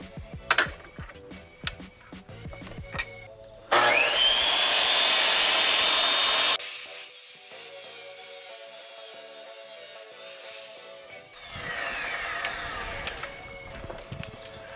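A Dewalt tile saw slices through a porcelain plank with a loud, sustained wet whining grind that shifts in pitch as the blade works through, then winds down, alone and close.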